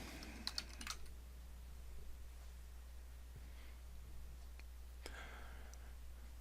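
Quiet, scattered keystrokes on a computer keyboard, a quick cluster early on and a few more later, over a low steady hum.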